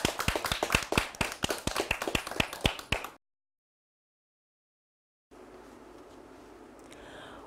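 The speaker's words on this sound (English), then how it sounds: "And give yourselves a big clap!" Small children at a Tumble Tots song session clap in a quick, uneven run of sharp claps for about three seconds, then silence, then a faint room hiss.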